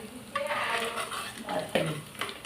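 Fish frying in a pan with curry leaves, a steady close sizzle broken by stirring scrapes and light clinks of utensil on pan; no talking.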